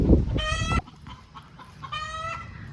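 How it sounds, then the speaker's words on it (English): Backyard chickens clucking and crowing outdoors in a garden, with a loud close call followed by softer, more distant clucks and a second drawn-out crow-like call. "those chickens are so loud"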